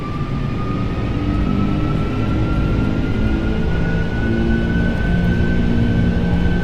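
Airbus A330 jet engines in X-Plane 12 spooling up to takeoff thrust, a loud steady roar with a rising whine, continuous and alone.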